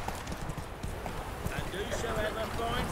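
Roach, Geralt's horse in The Witcher 3 video game, gallops with a steady run of hoof clip-clops under a continuous bed of game ambience and sound effects.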